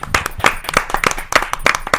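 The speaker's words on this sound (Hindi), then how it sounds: "आप सबकी जोरदार तालियों से" An audience at a Hindi poetry gathering claps in a lively, uneven round of applause, close and loud, with distinct individual hand claps throughout.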